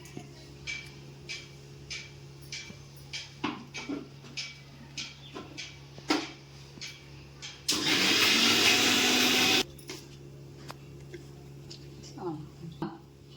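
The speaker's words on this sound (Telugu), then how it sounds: "మిక్సీ పట్టుకుందాం" A loud mixer grinder whirs for about two seconds, grinding carrot with turmeric, a harsh steady roar between quieter clinks, taps and background speech.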